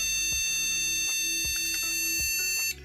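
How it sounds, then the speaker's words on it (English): An old Pentium-era PC failing to boot sounds a steady, continuous electronic beep tone under a repeating mechanical rhythm of clicks, loud and close, cutting off abruptly near the end. "Long beeps."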